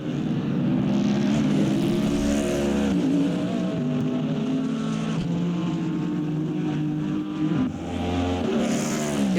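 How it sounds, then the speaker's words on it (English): A Ford Mustang GT3 race car in a racing video game roars through the final corners at Bahrain, a loud sustained engine note rising and falling with gear changes and no talk. "Here comes the Ford Mustang GT3 coming into the final 2 corners"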